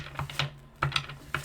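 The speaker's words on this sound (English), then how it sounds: "I'm just shuffling." Tarot cards are shuffled in quick, light riffles, giving a few soft, close clicking and flicking bursts spaced unevenly over a moment; nobody talks.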